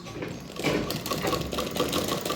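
A sewing machine stitches a straight seam while a garment is cut and sewn, running steadily with a fast mechanical whir and rhythmic needle chatter that stays close and fairly loud throughout, with no talking.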